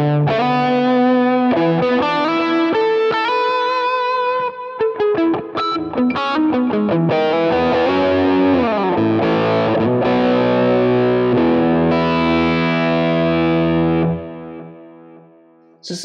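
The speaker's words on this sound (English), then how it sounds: "he's only running a single tape delay with this one" Electric guitar played through a Quad Cortex preset with a single tape delay: distorted chords and fast runs with repeating echo tails, loud and up front, ending in a fading ring.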